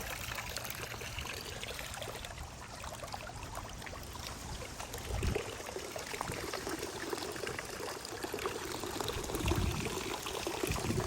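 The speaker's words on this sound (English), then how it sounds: "I just hit this to the off position and let the water drain out." Water pours and trickles steadily out of an Inokraft handheld pool vacuum as it drains through its valve, a close, continuous splashing flow with no talking.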